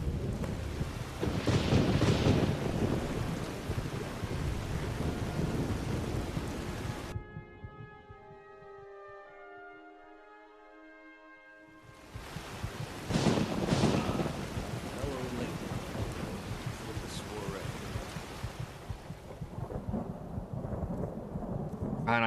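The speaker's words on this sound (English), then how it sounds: "There's a thunderstorm." Thunderstorm with rain in Skyrim: loud broadband rain and rolling thunder fill the scene, dropping away briefly to a quieter tonal stretch before the storm surges back strongly.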